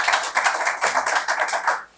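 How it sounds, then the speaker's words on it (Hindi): Audience applause at a chiropractic closing ceremony in a wellness and training centre, a dense steady patter of clapping hands, close and fairly loud, fading out at the end. "मैं सर के लिए तालियां बजाना चाहूँगा"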